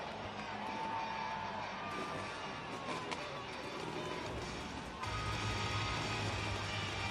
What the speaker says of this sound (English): He wants your applause, and you give it to him.